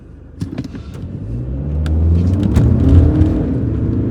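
Heard from the cabin, a 2017 Skoda Superb 2.0 TDI DSG 4x4 accelerates hard from 0 to 100, its deep roar climbing steadily in pitch and loudness, with a few clicks early on.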